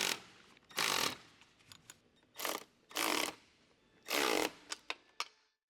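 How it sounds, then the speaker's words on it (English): Several short bursts of an electric ratchet with a 10 mm deep socket whirring as it tightens bracket nuts on a Jeep Wrangler JK, each under a second, separated by quiet pauses and a few sharp clicks near the end. "Use a 10 mm deep socket and adapter, electric ratchet, to tighten the 4 bracket nuts."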